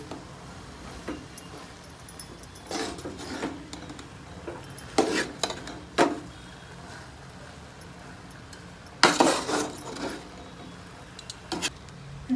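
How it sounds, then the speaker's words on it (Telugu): A spoon scrapes and taps against a pan while egg rice is mixed dhaba style. Scattered metallic clinks and scrapes come in irregular bursts over a quiet background. "ఇప్పుడు మొత్తాన్ని కలిపేసుకుంటున్నాను."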